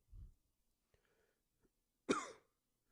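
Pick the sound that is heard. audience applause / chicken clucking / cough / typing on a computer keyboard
cough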